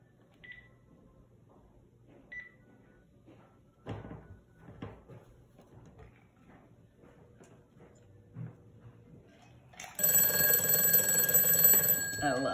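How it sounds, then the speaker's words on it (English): An antique telephone bell rings loudly for the last few seconds, a bright clattering ring that bursts in after a stretch of quiet room sounds, small clicks and knocks. "make this telephone ring right now."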